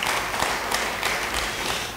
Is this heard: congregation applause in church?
yes